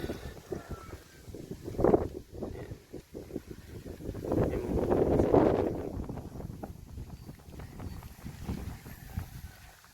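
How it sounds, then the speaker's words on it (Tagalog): Strong wind buffets the microphone outdoors in a rural vegetable plot, producing low, rumbling gusts that rise and fall, peaking in the middle, with no speech. "Kaso malakas ang hangin."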